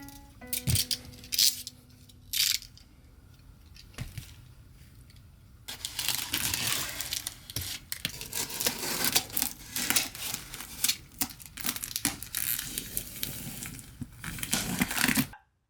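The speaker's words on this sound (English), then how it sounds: "Alright, the box has been opened." A cardboard box is cut and torn open close by, with sharp slicing, scraping and crinkling bursts at first, then a dense run of rustling, tearing and crumpling as the flaps and packing are pulled apart, with no speech.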